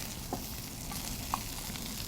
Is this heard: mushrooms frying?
yes